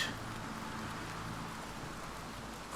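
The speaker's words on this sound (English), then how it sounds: "And I don't mind it raining if it looks good." Rain falling in the video game Oblivion Remastered, a soft continuous hiss of rainfall with a faint low rumble beneath, quiet and steady without talk.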